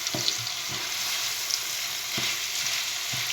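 Meat fries in a pan for stuffed potato quenelles, a constant close sizzle with a few low knocks and scrapes as it is stirred.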